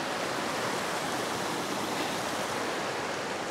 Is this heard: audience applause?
no